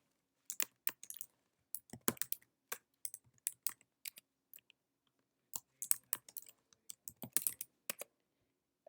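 Someone types on a computer keyboard in short bursts of quick, crisp key clicks with brief pauses between them, close and quiet in an otherwise silent room.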